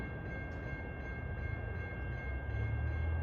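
NJ Transit train 1127 approaching on the Hoboken to Suffern run, a faint distant rumble with a steady tone that slowly swells louder toward the end, no talk.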